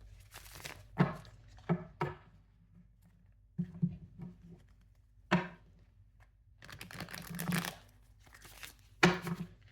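Tarot cards are shuffled by hand in quiet, intermittent bursts of soft riffling, papery crinkling and light taps, separated by near-silent pauses.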